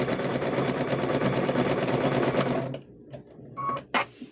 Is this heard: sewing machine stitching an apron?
yes